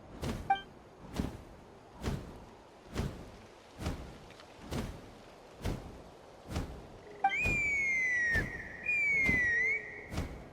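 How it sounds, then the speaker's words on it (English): A fantasy game world in Genshin Impact carries a steady run of soft thumping pulses, then a clear high whistle that sweeps and wavers near the end, fairly quiet overall and without voices. "That sounded like a whistle."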